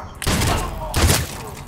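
Two quick loud bursts of gunfire from Mass Effect Legendary Edition, close and booming, separated by a brief gap, with a voice faintly underneath.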